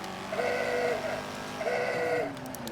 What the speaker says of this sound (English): I bumped the horn, but the horn is pretty cool.